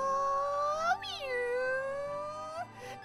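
A drawn-out, wavering cat meow from the Kirby and the Forgotten Land video game, a loud, clear, pitched cry that rises, dips and then slides up again over about three seconds.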